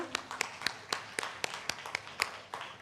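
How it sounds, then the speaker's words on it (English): Sparse, evenly spaced claps from a conference session audience, roughly a dozen sharp distinct hand claps at a steady rhythm, fairly quiet and somewhat distant, with no talking. "A big round of applause for all of you."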